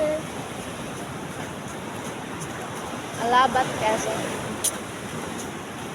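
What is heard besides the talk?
rough sea waves at shore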